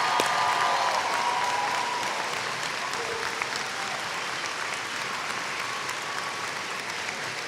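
Sustained audience applause at a spring morning commencement ceremony, dense and steady clapping that holds fairly even for the whole stretch with no talk over it.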